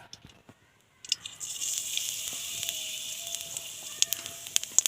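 Black cumin seeds dropped into hot oil for tempering, a sudden crackling sizzle that starts after a quiet second and continues with sharp pops and spits, close and moderately loud.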